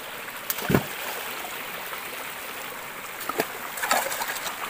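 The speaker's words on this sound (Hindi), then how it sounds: "इससे जो पानी नीचे जा रहा है वो नीचे नहीं जाएगा, ऊपर वेस्ट नहीं जाएगा, वो सब इस नहर में चले जाएगा।" Water flows through a mountain stream channel in a hill village, a steady soft rushing murmur heard from nearby, with a few faint splashes and bird calls.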